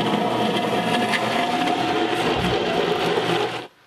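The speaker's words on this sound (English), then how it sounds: "Everything goes in the blender, and then we'll blend it up" A blender runs steadily at high speed blending salad dressing, a loud continuous whirring motor with churning liquid, then cuts off abruptly near the end.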